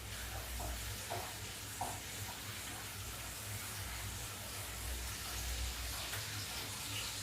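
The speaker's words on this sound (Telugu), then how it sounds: "ఇప్పుడు ఫ్లేమ్ కొంచెం హైలో పెట్టుకొని ఇవి ఫ్రై అవనిద్దాం" Onions and curry leaves fry in a pan over high flame, giving a steady close sizzle with a low rumble underneath and occasional soft pops.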